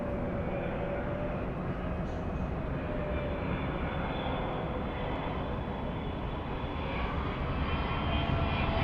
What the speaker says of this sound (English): let's go for the 777 on short final.